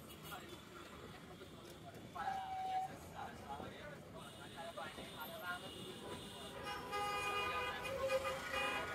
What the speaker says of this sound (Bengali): দেখুন জ্যাম, রাস্তায় জ্যাম পড়ে গেছে